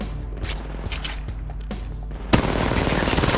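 Gunfire in the Apex Legends Mobile video game: scattered single shots crack out at first, then a sudden loud burst breaks into sustained rapid automatic fire that continues to the end.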